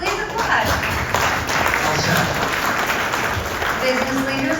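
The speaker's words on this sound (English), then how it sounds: "Yes, please applaud." An audience applauds with dense, steady clapping that fills the room, while speech carries on over it.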